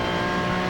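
Race car engine screaming at high, steady revs during a wheel spin, loud and close, a sustained harmonic roar.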